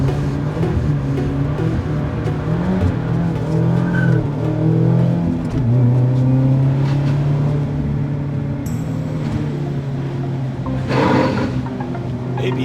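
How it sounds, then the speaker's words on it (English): On a rainy race track a car drives hard with its ABS engaging, and the engine drones loudly and steadily while tires hiss and rumble over the wet surface throughout. "ABS hitting."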